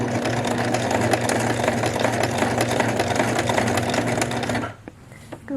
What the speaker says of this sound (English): I'm going to stitch right in the ditch of that seam.